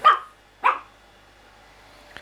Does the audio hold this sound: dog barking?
yes